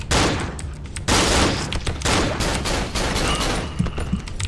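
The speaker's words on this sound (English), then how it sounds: "Who is shooting? Since when do they have guns?" Rapid gunfire rattles through a scene in the horror game Cry of Fear, loud and continuous with dense bursts of shots overlapping for several seconds and no voices.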